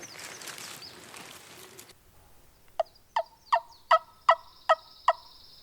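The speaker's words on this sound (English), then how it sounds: "There's a turkey right down the hill putting." Wild turkey down a hill in Alabama woods during spring season, several sharp, regularly spaced calls at moderate distance following a couple of seconds of soft rustling, otherwise quiet outdoors.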